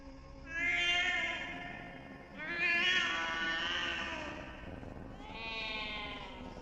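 A pet cat meows three times, each a long, drawn-out, plaintive call separated by short pauses, heard close and fairly quiet with no other sounds.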